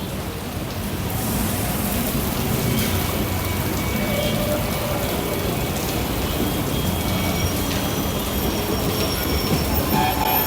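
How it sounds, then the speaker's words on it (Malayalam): An electric suburban train bound for Chennai Beach pulls into a station, a steady broad rumble of wheels and carriages rolling in close and loud throughout, with no voices over it. "നമുക്കിതാ ഇലക്ട്രിക് ട്രെയിൻ വന്നുകൊണ്ടിരിക്കുകയാണ്"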